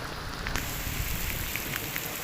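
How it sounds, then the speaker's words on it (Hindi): Heavy early-morning rain in a village falls in a steady, dense hiss with small patters of drops hitting nearby surfaces, moderately loud and continuous throughout. "पानी, बारिश बहुत ज़्यादा तेज हो रही है।"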